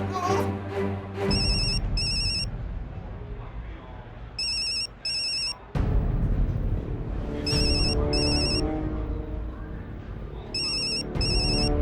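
A mobile phone ringtone repeating in short electronic bursts while calling someone who does not pick up, heard over a busy background of music and ambient noise.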